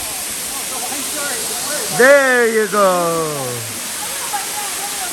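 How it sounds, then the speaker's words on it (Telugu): Steady broadband rush of Cathedral Falls waterfall in West Virginia fills the whole scene at constant level, with a voice speaking briefly over it partway through. "మీకు ఇప్పుడు చూపిస్తాను ఒక బ్రహ్మాండమైన వాటర్ ఫాల్"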